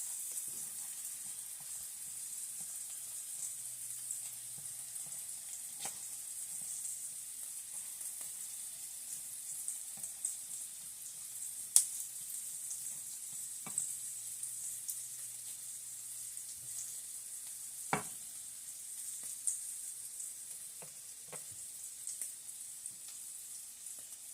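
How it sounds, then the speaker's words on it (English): Ground turkey soup vegetables sizzle and hiss steadily in a pot, with a soft continuous frying crackle, occasional louder stirring scrapes and clicks, close and alone with no talking. "And just stirring the vegetables around some more."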